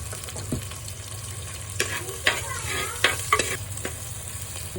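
Small onions sauté in a pan after a pinch of salt, giving a steady close sizzle with scattered scraping stirs of a spoon against the pan, no voices.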